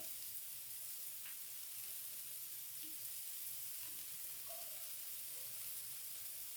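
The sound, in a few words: onions frying and sizzling in a pan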